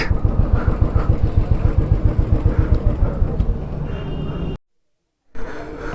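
Motorcycle engine idling loud and close on a ride through Kolli Hills, a steady rapid thumping pulse that cuts off abruptly into brief silence before resuming.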